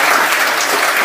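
A crowd at a summer celebration gathering breaks into loud, dense applause, a steady wash of clapping with no pauses.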